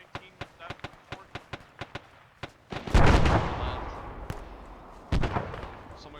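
Repeated sharp reports from a Mark 19 grenade launcher during a milsim field exercise: a rapid series of distant, evenly spaced thumps, followed by a louder burst and rumbling noise, with voices talking over the scene.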